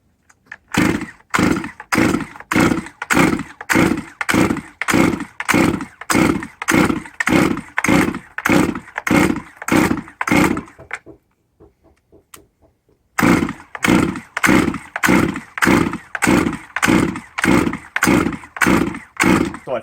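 A Holzfforma G111 chainsaw starting and running, loud and close, with rhythmic pulsing engine bursts, a short pause near the middle, then the same throbbing resumes.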